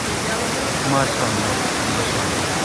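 Waterfall at a scenic spot, with fine water falling from above like heavy misty rain, a steady broadband roar throughout while someone briefly speaks over it.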